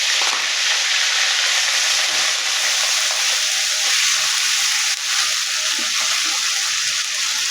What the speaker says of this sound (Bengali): বাটা মশলাটা একটু ভালো করে তেলে ভেজে নিব